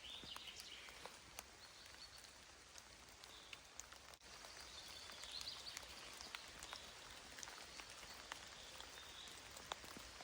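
Steady rain falls through a Kyiv-region forest, a dense even patter of drops on leaves continuing throughout, with faint bird calls scattered in the background and no talking.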